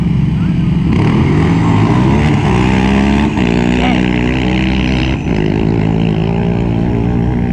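Yamaha Raptor 700 R and 750 ATVs drag racing at dusk, loud sustained engine drone with shifting pitch from the revving motors, continuous and close throughout.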